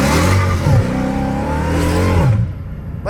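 Car exhaust in low gear: a loud, close engine drone that rises in pitch through the revs, briefly drops and climbs again, then cuts off sharply near the end.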